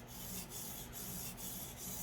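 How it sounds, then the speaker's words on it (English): A TOPS hunting knife is drawn across a sharpening stone in a steady scrubbing rhythm, giving a close, continuous gritty rasp with a few soft pulses and no voices. "So as I move along the stone, I just shift over just a little bit, kind of doing a scrubbing action."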